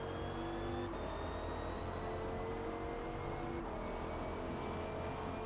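A race car engine in Forza Motorsport at the Kyalami circuit drones steadily and climbs in pitch as it accelerates, a continuous high whine layered over a low rumble with no talk over it.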